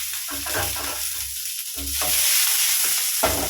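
Spices spluttering in hot oil while tempering for cowpea kuzhambu, a loud hissing sizzle with bursts of crackle and low clatter from the pan, continuous throughout.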